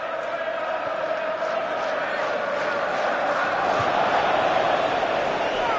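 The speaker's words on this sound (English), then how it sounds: "they're cheering them across the finishing line" A stadium crowd cheers steadily in an EA Cup sports video game, a dense, continuous roar of many voices that swells slightly toward the end, with no commentary over it.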